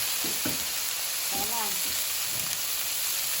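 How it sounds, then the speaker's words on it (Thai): Eggplant is stir-fried in a pan with a loud, continuous close sizzle, and a few brief voiced sounds rise above the frying. "ผัดมะเขือก่อนนะคะ"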